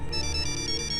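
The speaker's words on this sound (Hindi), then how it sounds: "किसका फोन है? पापा का फोन है।" A mobile phone ringtone plays steadily and clearly with a repeating tonal pattern, ringing alone without voices.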